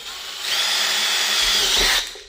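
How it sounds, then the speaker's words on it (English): A power drill fitted with a new, sharp bit bores a hole in a Spirit Halloween Ghostbusters ghost trap prop, a steady high whine rising and holding for about a second and a half, then stopping abruptly. "These are very new sharp drill bits, so I'm not too concerned."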